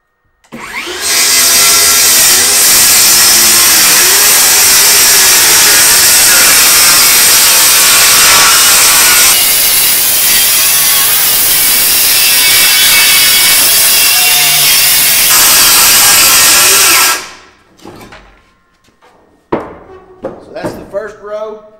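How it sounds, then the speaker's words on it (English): A saw cuts loudly and continuously through wooden trailer floor boards for about sixteen seconds, then stops, leaving scattered clunks and handling noises. "Now we're going to make another cut, and these boards will come out."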